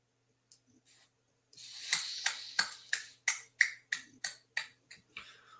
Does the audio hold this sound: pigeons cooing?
no